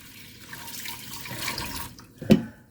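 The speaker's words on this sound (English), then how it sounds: "I'm going to go in with some water." Water poured onto rice in an Instant Pot inner pot, a soft running trickle that builds and then ends with a brief louder splash, close by.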